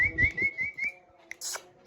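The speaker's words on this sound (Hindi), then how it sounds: "इसको मैं सीटी मारूंगा कैसी आवाज़ निकालेगा" A person whistles to a baby parrot in a series of short clear tonal notes, followed by a few faint chirps and small clicks.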